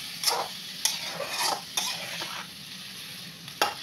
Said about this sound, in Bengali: অল্প পানি দিয়ে মাছগুলো আমি কষিয়ে নিচ্ছি দেখুন।